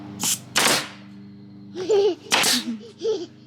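A nail gun fires into scrap wood while bat houses are built: two sharp bursts close together early, then another later. A low hum runs underneath, and a voice and chatter fill the gaps.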